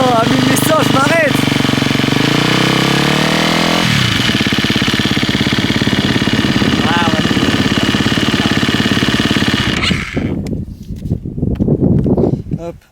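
A 250 EXC-F dirt bike engine idles at about 2000 rpm, a loud, close, steady four-stroke thrum that drops in pitch partway through and then fades irregularly near the end, with voices talking over it.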